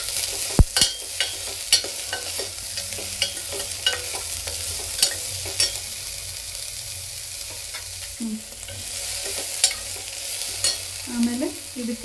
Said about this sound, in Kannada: ಆಮೇಲೆ 4 ಬೀನ್ಸು ಎಲ್ಲ ಹಾಕ್ಕೊಂಡು ಚೆನ್ನಾಗಿ ಫ್ರೈ ಮಾಡ್ಕೊಳ್ಳಿ.